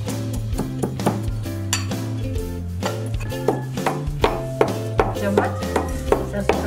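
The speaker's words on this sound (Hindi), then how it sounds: "अभी इसको हम बारीक कूट के इसका पाउडर बना देंगे।" Roasted cumin, fennel and fenugreek seeds are pounded into powder by a Rajasthani wood-fired chulha, with a quick run of close, rhythmic thuds and knocks over steady background music.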